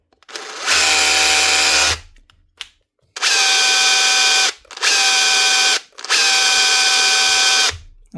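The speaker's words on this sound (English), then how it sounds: "One Makita SDS with a new controller fitted." A Makita SDS drill running after repair with a new controller fitted: loud, close whirring motor bursts of about one to two seconds each, four runs separated by short silences.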